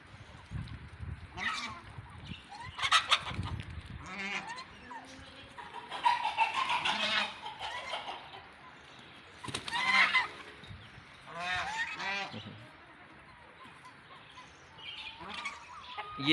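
Aseel chickens at a poultry farm cluck and call in short, separate bursts, fairly close but quiet, with pauses between them and a person talking at times.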